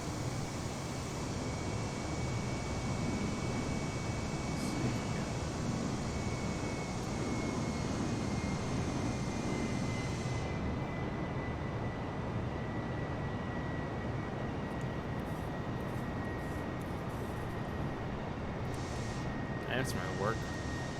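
Airbus A320 jet engines in Microsoft Flight Simulator, flying a China Southern Airlines route from Beijing to Seoul, a steady broadband cabin roar with a constant faint whine, unchanging throughout, with faint clicks near the end.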